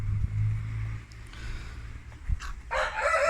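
Chickens and a rooster in a backyard coop give scattered clucks and a short crowing burst near the end over a low, steady hum of background noise.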